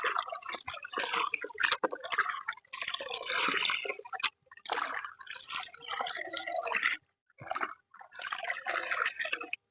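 Fungicide for ginger plants in grow bags is mixed into water, producing quiet, irregular splashing and sloshing with a few short pauses.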